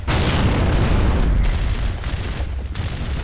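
A frag grenade goes off in Gears of War on Xbox 360, a loud, close, sustained booming blast that rumbles and fades over about three seconds.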